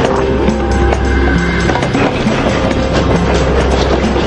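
A train speeding past at close range, with a loud continuous rumble, rattling wheels and rhythmic clickety-clack on the rails, dense and unbroken for a few seconds.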